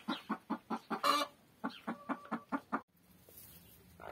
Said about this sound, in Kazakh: Сол осы 4 тауық күрк болды.